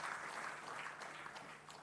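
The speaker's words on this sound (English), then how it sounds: "Continue the applause." Audience applause at the 7th graduation ceremony of Mercy Education Campus, a steady even wash of many hands clapping, heard at a distance in a large hall.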